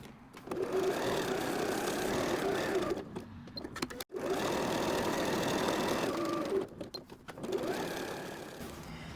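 Sewing machine zigzag stitching around the edge of a fabric patch, running in two long steady bursts broken by a brief stop near the middle, close and fairly quiet.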